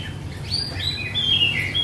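A red lory parrot, a tame bird being shown at a bird market, gives a series of close, loud, high chirping calls over background noise.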